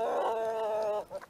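Hungry hens clucking and complaining in a farmyard on a frosty morning, a sustained nasal, tonal call for about a second, then a couple of shorter clucks, close and fairly loud with no talking.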